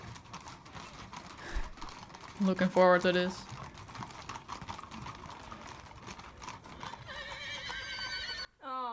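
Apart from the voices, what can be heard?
angry horse neighing and hooves clopping at a guard ceremony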